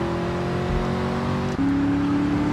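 A four-door car in Vice City drives with a steady engine drone, then shifts to a slightly higher pitch partway through, loud and continuous with no voices.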